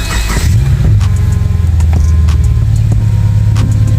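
A Subaru engine cranks briefly and then catches after repair work, settling into a loud, steady, slightly rough idle close by, with a few faint clicks and knocks over the running engine.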